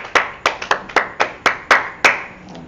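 Congregation in a church service clapping in a loose, steady rhythm, about nine sharp claps over a few seconds, close and fairly loud, trailing off at the end with no voices.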